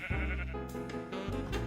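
Sheep bleating in a video game, a few quavering, nasal bleats close up and loud, repeating in quick succession with no talking.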